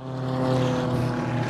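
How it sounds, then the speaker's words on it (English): Propeller planes of an air show stunt team coming in to land, a loud, steady droning engine roar with layered harmonic hum, close and continuous without talk. "Some of the stunt team planes that will be performing throughout the three-day event here at MAPS coming in for a landing."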